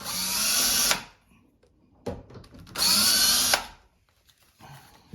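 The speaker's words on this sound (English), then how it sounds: "we're gonna remove these two screws and take this out" A power drill or screwdriver backs two screws out of a bedroom or bathroom privacy door knob, two loud whirring bursts about a second each separated by quiet, with a faint clicking afterward.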